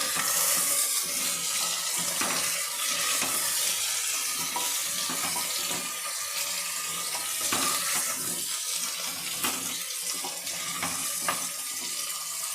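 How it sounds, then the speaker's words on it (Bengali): Chopped taro is fried lightly in hot oil with already browned onion for a traditional Bengali fish curry with eggplant. A steady, loud sizzle and crackle runs throughout, with occasional stirring scrapes. "এবার আমি গুঁড়ি কচুটা দিয়ে দিলাম। গুঁড়ি কচুটাকে বন্ধুরা আমি একটু হালকা করে ভেজে নেব।"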